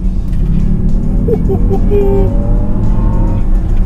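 A Jaguar I-Pace electric car accelerates in sport mode, with a steady, loud road and motor rumble and a faint rising electric whine that builds midway.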